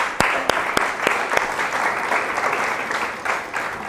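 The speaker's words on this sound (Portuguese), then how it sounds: "Vamos aplaudir Jesus." A church congregation bursts into steady applause for Jesus, a dense wash of many hands clapping close and loud, with a few sharp louder claps standing out at the start.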